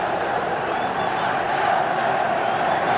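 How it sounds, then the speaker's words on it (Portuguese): Flamengo supporters filling the Maracanã stadium at a 1978 Carioca final against Vasco da Gama roar in a dense, unbroken wall of crowd noise, loud and sustained across the whole stretch. "É impressionante a torcida do Flamengo no Maracanã."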